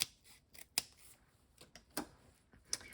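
Scissors snipping paper cardstock for a Stampin' Up split card, a handful of separate crisp cuts spaced irregularly, close and fairly quiet against a near-silent room.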